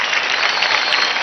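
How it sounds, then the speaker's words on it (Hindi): Loud, dense audience applause in a dance competition studio, a continuous wash of clapping heard alone. "रॉकिंग जोरदार तालियां हो जाए आशुतोष के लिए।"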